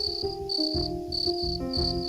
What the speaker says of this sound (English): the crickets and the frogs and all the animals in the forest sang along